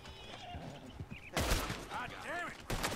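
A horse in the western video game Red Dead Redemption 2 whinnies loudly and its hooves clatter, with bursts of noise and gunfire-like cracks around it.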